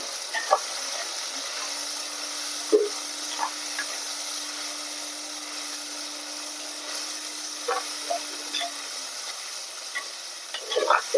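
A ground paste of sambar onion, tomato and garlic sautés in oil for fish gravy, a soft steady sizzle broken by scattered scraping stirs and taps, with a low hum running through the middle.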